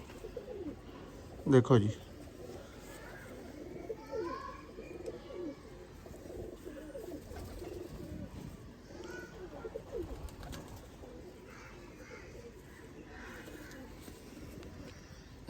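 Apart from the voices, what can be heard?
cross breeder pigeons cooing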